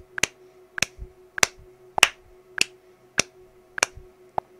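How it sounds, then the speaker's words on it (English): A REAPER metronome clicks steadily with hand claps landing in time, about eight sharp evenly spaced hits at close range with no talking. "I can actually hear the metronome over me clapping there"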